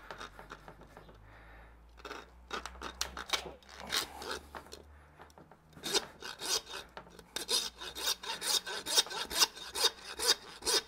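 A handsaw cuts through the bone of a giant 12 kg wagyu short loin in rhythmic back-and-forth strokes, quiet at first and then faster and louder, close by with no talk.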